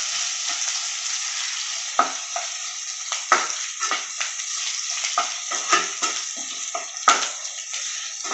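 Kerala gooseberry pickle (nellikka achar) mixture frying in a pan, a steady close sizzle with the occasional clatter of stirring.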